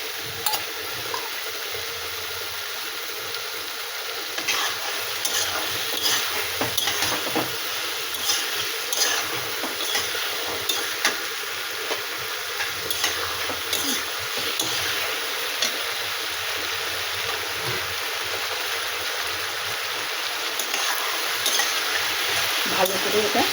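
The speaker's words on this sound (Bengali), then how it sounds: "ভালো করে এটা মশলাগুলো কষিয়ে নেব।" Spices, eggplant and taro fry in a pan with a continuous sizzle and hiss, while a spoon periodically stirs and scrapes through the mixture up close.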